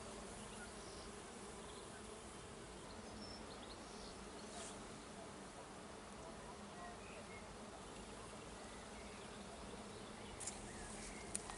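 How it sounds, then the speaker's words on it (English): Honeybees buzz inside a hive during oxalic acid vaporization for varroa treatment, a dense continuous hum, steady and fairly faint, with a few small clicks near the end. "The bees are making a lot of noise now as the oxalic acid is beginning to vapourize."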